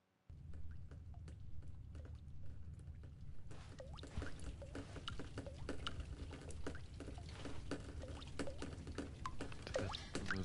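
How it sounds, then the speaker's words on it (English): Water in the Stanley video game, a continuous pouring and trickling wash with scattered drips and patters. It starts after a brief silence and thickens partway through, staying steady and fairly quiet throughout. "Those water sounds so satisfying."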